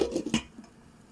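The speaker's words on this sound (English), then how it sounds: "And I'm going to put the lid back on while they cook." A lid goes back onto a cooking pan with a short clatter of two or three light metallic knocks, close by, then the sound fades to a quiet simmering hush.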